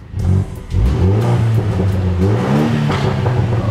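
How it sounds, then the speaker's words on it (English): A BMW M3 engine revs loudly nearby, rising and settling in pitch with a deep rumbling exhaust tone after a brief dip. "let me give it a little rev"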